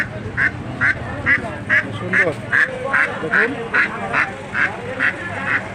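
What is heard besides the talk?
ducks quacking at a village market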